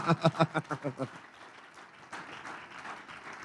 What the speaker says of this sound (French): Les étudiants, vous là, on applaudit bien fort